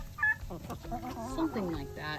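Hens, including a Rhode Island Red, cluck and murmur close by in a backyard flock, a run of soft repeated clucks and short calls while a person talks briefly.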